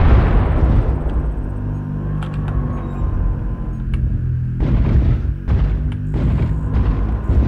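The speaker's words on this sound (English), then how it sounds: "Warning, incoming missile." Loud, deep booms and heavy rumbling blasts from an incoming missile strike in the JM6-A Missile Support game, with sustained low-end explosion rumble and sharper impact bursts near the end.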